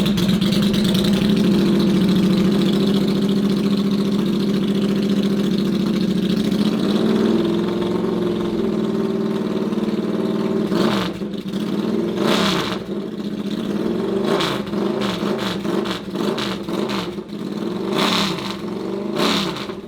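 A Triumph Thruxton motorcycle engine idles with a steady, loud, throbbing burble, then is blipped repeatedly in sharp revs that rise and fall, heard close with no talk.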